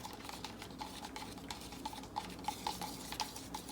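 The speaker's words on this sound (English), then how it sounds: "then I'm going to stir those together" Paint mixed with an equal amount of Floetrol pouring medium is stirred with a small plastic knife, giving faint, close, irregular scraping and light clicking taps against the cup over a low background hum.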